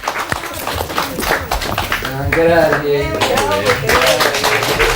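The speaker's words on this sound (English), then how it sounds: "Big clap." A studio audience claps steadily for a TV crossword game show while someone talks loudly over the applause, the clapping continuing as a dense wash beneath his voice.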